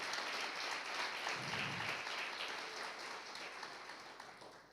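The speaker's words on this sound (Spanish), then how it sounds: "Dele un aplauso al Señor." Steady applause from a church congregation fills the whole stretch, a dense wash of clapping that stays fairly even and slowly tapers toward the end.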